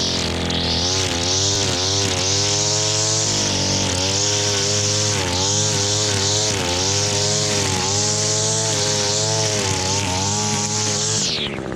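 ECHO 225 string trimmer engine running cold just after starting, a loud close two-stroke buzz that holds steady with slight wavering in pitch, then cuts off at the end.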